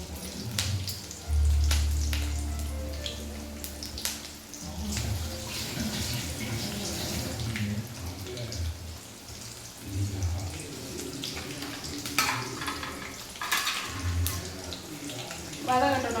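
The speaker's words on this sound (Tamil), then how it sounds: "தக்காளியை கழுவிட்டு வந்துடுறேன்" Tap water runs while tomatoes are washed for a fish curry, a close splashing stream with clatters and breaks over about sixteen seconds, with a voice speaking at times.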